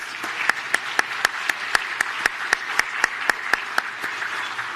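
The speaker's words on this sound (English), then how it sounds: "Would you join me in a round of applause for all of our sponsors?" Sparse, steady claps ring out at a Winter Park State of the City event as the audience applauds its sponsors, with sharp individual hand claps repeating at a regular pace over a quiet hall.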